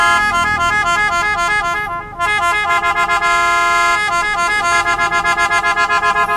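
Horn on a Hyundai Porter 150 refrigerated box truck, sounding loud and close as a long run of rapid pulsing honks with one brief break, then resuming in the same steady rhythm.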